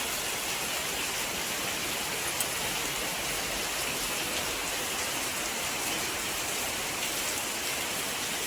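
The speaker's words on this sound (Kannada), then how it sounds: "ಮಳೆ ಶುರುವಾಗಿದೆ ನೋಡಿ, ಜೋರು ಮಳೆ ಶುರುವಾಗಿದೆ ಇವತ್ತು" Heavy monsoon rain pours steadily outside a home in Karnataka, a dense, even hiss of drops on the ground and roofing that continues unbroken and fairly close, with no voices.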